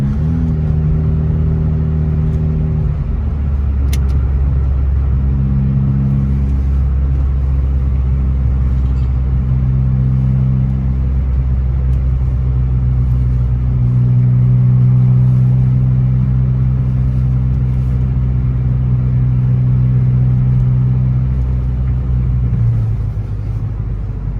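A 1994 Saturn SL2 with a Twin Cam engine accelerates on the road, a loud, steady engine drone heard from inside the cabin that climbs in pitch through several gear changes.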